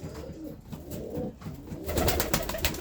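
A young racing pigeon coos in a loft in a soft, rolling rhythm, with a few close, throaty coos and a brighter rustle near the end.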